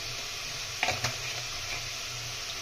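Spice paste with ground coriander and turmeric frying in a pan, a steady close sizzle with a couple of brief stirring scrapes near the start, no voices.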